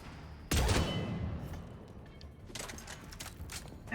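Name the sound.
gunfire from squadmate Ashley in Mass Effect video game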